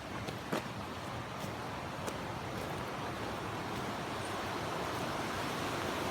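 An outdoor stream flows steadily nearby, a continuous broadband rush of moving water with faint wind noise and a few light clicks, holding an even level throughout.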